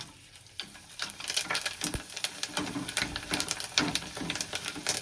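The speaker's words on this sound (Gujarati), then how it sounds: "આપણે હવે વેફર તરવા નાખી દઈએ" Thin potato wafers fry in hot oil, giving a close, bubbling crackle and sizzle broken by irregular stirring scrapes and splashes.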